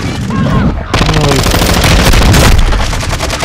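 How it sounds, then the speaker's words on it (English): Rapid automatic gunfire from the video game Call of Duty Warzone 2: loud, close, sustained machine-gun bursts that fill the whole stretch, with a brief dip in the firing near the start. "Oh, I'm getting shot again."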